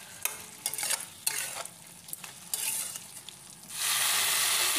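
Meat being stir-fried in oil for a Bengali chicken dish, a quiet background sizzle punctuated by several sharp spatula scrapes, ending with a louder, hissing surge of frying.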